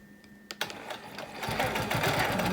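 A sewing machine stitches a wholecloth quilt in short bursts: a few separate needle clicks and brief stops, then a steady, fast mechanical whirr of continuous stitching up close.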